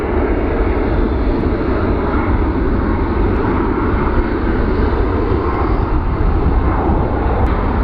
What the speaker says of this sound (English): there goes our flight to Denver